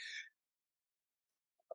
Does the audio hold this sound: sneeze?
yes